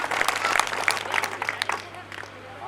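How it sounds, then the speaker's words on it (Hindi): A Hindi poetry gathering audience applauds to honor a local person, a brief spread of claps at moderate distance, thinning toward the end. "जोरदार उनका तालियों से अभिनंदन हो।"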